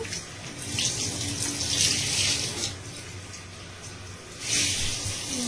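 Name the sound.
lukewarm tap water running while rinsing hair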